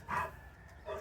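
A dog gives two short barks, the first louder and the second about a second later, fairly close with faint background noise and no talking.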